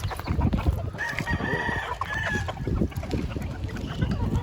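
Chickens cluck and a rooster crows nearby as a busy backyard flock is fed, sounding steadily with no talk.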